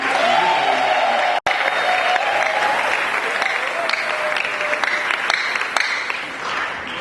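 An audience at a Mass for the Kinshasa symposium on the family applauds in a sustained, loud burst of clapping, with voices and cheers mixed in; the applause fades slightly toward the end.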